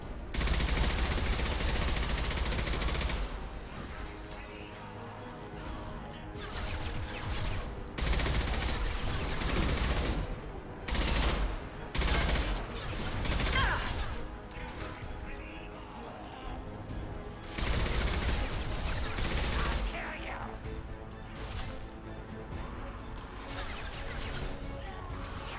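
Gunfire in the video game Mass Effect 2: loud, dense bursts of rapid shots and blasts that run almost continuously, with brief lulls between volleys.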